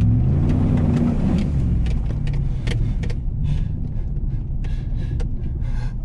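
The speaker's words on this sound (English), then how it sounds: "Here's a puddle. We should probably hit this puddle." A 2015 Chevy truck rolls through a mud puddle at a mudfest event, with a steady, loud engine rumble and splashy broadband bursts and sloshing toward the middle and end.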